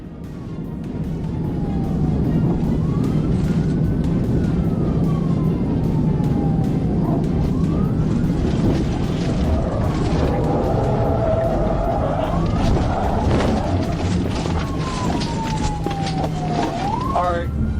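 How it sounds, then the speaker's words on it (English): An Arkansas State Police cruiser wails its siren while chasing a suspect vehicle on the roadway, then knocks it into a spin with a TVI maneuver. A loud, continuous engine and road roar runs under rising and falling siren sweeps, with brief tire noise. "an Arkansas State Police trooper executed a tactical vehicle intervention (TVI) maneuver, causing the suspect vehicle to lose control and come to a stop on the roadway"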